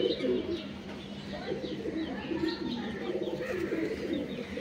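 Pigeons in a home loft coo softly and repeatedly, several low throaty calls overlapping with occasional chirps against a quiet background.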